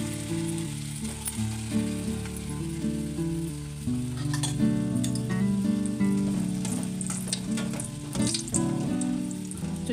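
Small balls of milk bread dough fry in oil over a medium flame, the way gulab jamun are fried, giving a steady close sizzle with bubbling crackle and occasional stirring clinks, with no talking.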